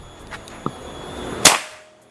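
A single sharp crack from a Predator OD 38 PCP air rifle with a stacked chamber, preceded by a faint tap and fading into quiet.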